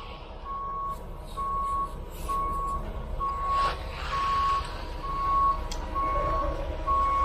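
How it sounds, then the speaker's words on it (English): A concrete conveyor truck backs in on a job site and gives steady, evenly spaced reversing beeps. The beeps repeat about every 0.6 seconds over a loud diesel engine rumble, with some clatter in the background. "Second truck's backing in, that's the conveyor truck."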